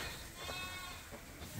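Ewes bleating in a barn during nighttime chores, a dense, continuous chorus of calls that fills the whole brief moment.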